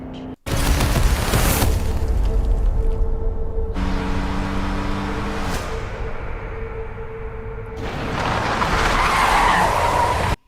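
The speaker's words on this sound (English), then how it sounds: "when bro crashes the car, how does the tire come off?" Car skidding and crashing in Final Fantasy XV: a continuous, loud, rough tyre-and-engine roar with a sustained whine, dropping out briefly midway before a harsh, noisy impact surge near the end; no talking.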